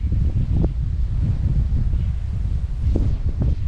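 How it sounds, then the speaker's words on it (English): Strong wind gusting on the Ocean to Lake hiking trail, a loud, continuous low roar buffeting the microphone with brief swells, and no voice heard. "Super windy right now."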